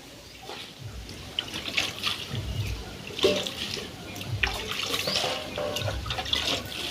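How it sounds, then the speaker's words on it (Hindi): Water poured from a container into clay soil while a village mud cooking stove is built outdoors, heard as a steady splashing trickle with small bursts, fairly close and moderately loud. "माटी दे लेते हैं, पानी डाल देते हैं इसमें भर करके"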